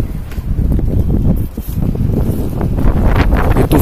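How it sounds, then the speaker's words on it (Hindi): Strong storm wind gusting outside in Delhi, a loud, steady broadband roar with buffeting rumble against the microphone, surging and dipping briefly before building again, with no talking. "देखो क्या हवा चल रही है यार"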